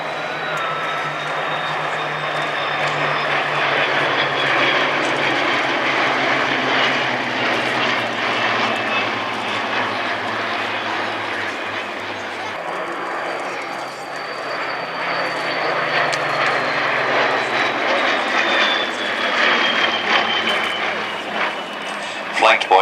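Spitfire aircraft flying at the Flying Legends airshow, a loud sustained piston-engine drone with shifting pitch as the planes pass, steady throughout with a slight swell near the end.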